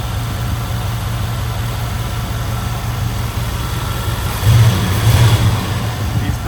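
A 1994 GMC Sierra 1500 single-cab 4x4 pickup with throttle body injection idles steadily nearby, a low even engine drone that swells briefly louder near the end as if lightly revved.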